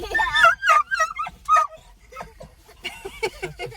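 A dog at the beach barks in short bursts and whimpers between them, close and fairly loud, with a few yips toward the end.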